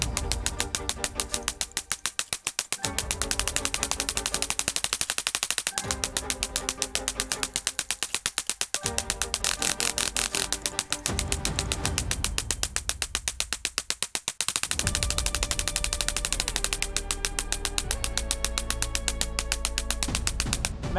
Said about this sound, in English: Mag dump.